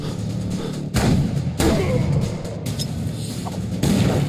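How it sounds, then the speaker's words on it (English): Gunfire in the survival video game The Culling, several heavy booming shots with thudding impacts at irregular intervals over a continuous loud game background. "Deadly firearms."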